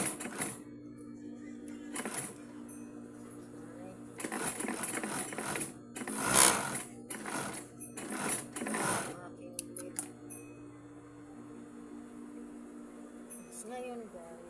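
Sewing machine stitching a pair of pants, running in several bursts of rapid mechanical whirring with pauses between, close and moderately loud over a steady background hum.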